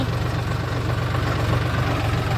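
A heavy tractor engine idles steadily and loudly with a low, throbbing rumble and slight knocking, continuous throughout with no voices.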